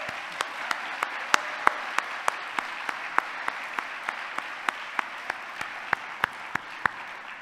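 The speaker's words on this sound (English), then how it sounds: "let's give everyone a huge round of applause" Applause at a global student competition final: a soft bed of crowd clapping carries regularly spaced, louder single claps close by, roughly three per second, running throughout.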